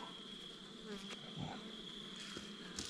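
Faint, steady buzzing of many honeybees around an open hive during fall winter preparation, a low, continuous drone with a few brief closer passes.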